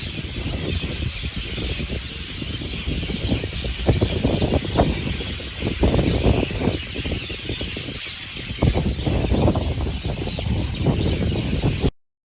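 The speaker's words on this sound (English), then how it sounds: "Awful lot of birds up there making noise." Dense chorus of many birds of mixed kinds calling from a huge tree on Kauai, a steady busy chatter with sharp chirps and squeals over low background noise, no talking.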